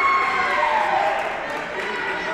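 Basketball arena crowd at a women's game reacting with broad, sustained disapproval after a charge call, a dense wash of voices that eases slightly toward the end, with a faint whistle-like tone sliding down early on.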